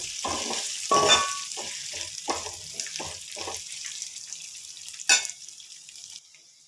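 Moong dal cooking in a pan, with a soft broadband sizzle broken by rhythmic scraping stirs and a couple of sharper clinks, close by with no talking.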